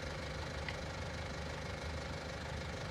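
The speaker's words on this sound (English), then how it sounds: "Oop, our tractor's back." A tractor engine idling in a farming simulator video game, a low, steady, even rumble held faintly in the background.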